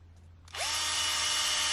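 A power drill fitted with a tap spins up abruptly after a quiet moment, then holds a loud, steady high whine while cutting threads in nylon, close and with no talk.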